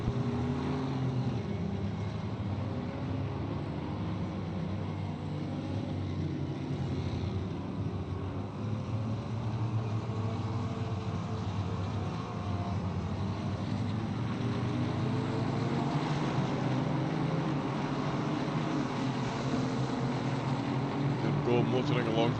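Steady engine drone of GT race cars lapping Suzuka in Assetto Corsa Competizione during a three-hour endurance race, a continuous mid-level hum with slowly shifting pitch, underneath ongoing commentary.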